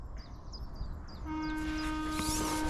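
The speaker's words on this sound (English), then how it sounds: "That's the hooter, and we are off." Hooter signalling the start of a fishing match sounds a loud, steady horn blast that begins partway through and holds to the end, after birds chirping in the open air.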